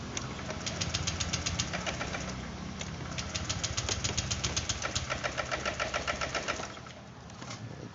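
A Honda Vario 125 scooter engine runs steadily and close, with a rapid ticking, knocking clatter that keeps pulsing through, then eases slightly near the end; no voices.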